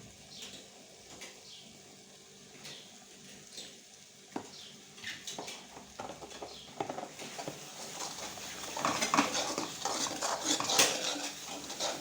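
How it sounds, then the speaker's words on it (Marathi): Spice masala being sautéed in a pan for paneer masala, stirred until the oil separates; a utensil scrapes and clinks against the pan in irregular strokes, with faint sizzling that grows louder and busier toward the end. "मसाले छान असे तेल सुटेपर्यंत परतून घ्यायचे आणि चवीपुरतं मीठ टाकायचं"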